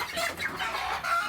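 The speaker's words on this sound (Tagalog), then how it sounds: "Kulungan ng mga manok niya." Chickens cluck steadily inside their coop, a native-looking breed from a third batch of birds, with overlapping close calls and no talking.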